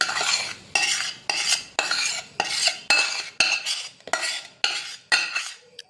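Fenugreek is stirred in hot jaggery syrup for traditional gond laddu. A spoon scrapes and knocks against the pan in about ten regular strokes, each one sharp and close, with no talking.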